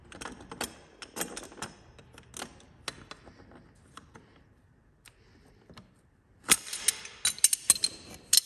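Ratchet wrench clicking in repeated bursts while tightening a bicycle bottom bracket, close and fairly loud with pauses between strokes, ending in a dense run of rapid clicks.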